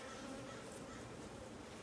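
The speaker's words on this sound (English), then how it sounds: "We're in the process of sweeping off the bees." Honey bees buzz in a steady, dense drone as they are swept off hive frames during a beekeeping inspection, a continuous close swarm hum with no break.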